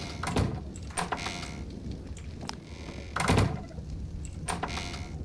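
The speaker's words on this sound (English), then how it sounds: "That door is acting funny." Sliding door in Ark: Survival Evolved opening and closing repeatedly, a few loud thudding scrapes and knocks spaced irregularly over a constant rainy ambient background.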